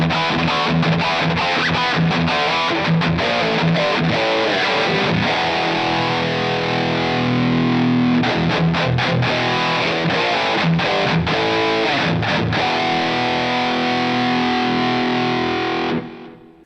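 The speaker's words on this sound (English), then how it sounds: "let's go back to the full humbucker and just do some chunky rhythm here" Heavily distorted Bootlegger Absinthe electric guitar on a full humbucker pickup chugs out chunky, palm-muted rhythm riffs, loud and continuous for about sixteen seconds before cutting off abruptly at the end.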